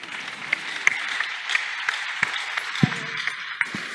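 A church congregation applauds, a soft rolling patter of many hands with a few sharper claps standing out at irregular intervals, fairly steady and moderately loud throughout.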